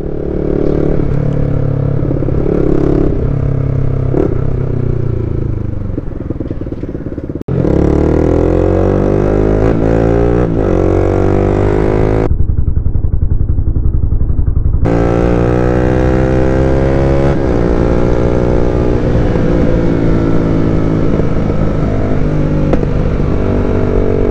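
Yamaha R15 v2 motorcycle fitted with an Akrapovic exhaust, revved hard at full throttle close by, its loud rasping drone climbing and falling in repeated pulls, with one brief drop to a low idle before rising again.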